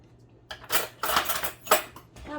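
Spoon scraping and clinking in a bowl of pumpkin cookie dough, a few distinct scrapes and taps in quick succession, close and fairly quiet.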